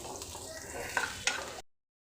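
Onion sautés in a pan as a quiet sizzle with a couple of brief spoon scrapes and clinks, which stops abruptly after about a second and a half.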